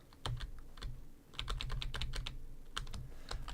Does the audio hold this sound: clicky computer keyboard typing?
yes